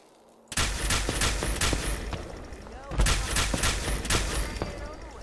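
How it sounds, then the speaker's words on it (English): Bursts of rapid gunfire from raiders in the video game Fallout 4, Nuka World, sharp volleys erupting suddenly after quiet, then a second heavy barrage with echoing cracks, loud and close. "Pretty sure they should probably just start shooting right about now."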